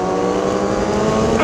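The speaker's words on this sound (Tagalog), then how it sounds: "May kotse ah." A car engine runs loud and close, a steady droning hum with a rising, revving edge near the end and no voices over it.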